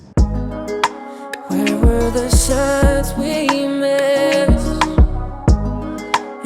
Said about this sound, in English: one hip-hop beat that sounds like this.